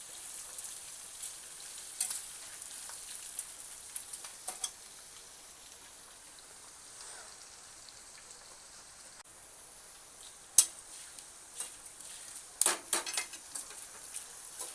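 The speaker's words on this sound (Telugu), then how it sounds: "కొంచెం అల్లం ముక్కలు వేగే వరకు కలుపుకోవాలి." Ginger pieces and curry leaves fry in oil for a home-cooked pulihora tempering, a soft steady sizzle broken by scattered spoon clinks and scrapes against the pan, with a few sharper knocks toward the end.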